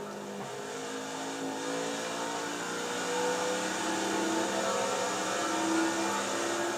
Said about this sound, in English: Look at that big group of cars up there after Alex Bowman.